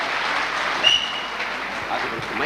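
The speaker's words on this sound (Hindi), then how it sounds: "एक जोरदार ताली मिसेज वंदना जी के लिए।" Crowd applause greets Mrs Vandana at a Safe Shop gathering, a steady dense clapping across the whole stretch with one brief louder burst, no voices over it.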